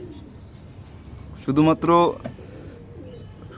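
Teddy pigeons coo in two short, throaty bursts close by, with a person talking around them.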